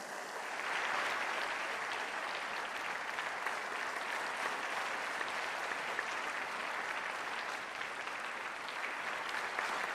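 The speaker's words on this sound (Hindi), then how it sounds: "आप सब अपनी भावनाओं को तालियों के माध्यम से मंच तक पहुंचाएंगे" A large audience at an education summit inauguration in Varanasi applauds steadily, a distant, even wash of clapping that sustains throughout without pause.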